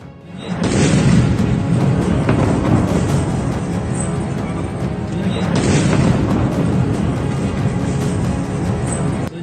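A deep, heavy rumbling boom that swells twice and sustains, an explosion on the Kerch Bridge, with a dense roar throughout and no speech.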